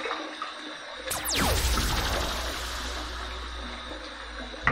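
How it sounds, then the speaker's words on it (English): Water splashed onto a face over a bathroom sink before a shave, a close running-water wash and splatter that swells and then holds steady. "So one more splash."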